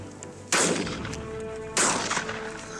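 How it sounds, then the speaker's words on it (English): Two loud shotgun blasts at a bird shooting safari, sharp and close, spaced a little over a second apart, each trailing off into open-air echo. "they're certainly getting plenty of shooting this afternoon"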